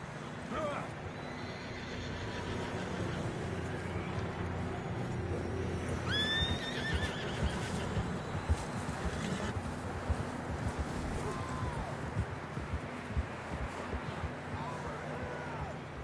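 Video game horses whinny and snort over a constant bed of hoofbeats and ambient noise, with several neighs rising above the steady clip-clop, played on PS4.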